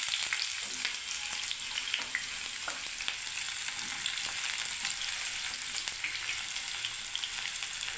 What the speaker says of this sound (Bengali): এবারে আমি পেঁয়াজটাকে ভেজে নিচ্ছি বন্ধুরা দেখুন।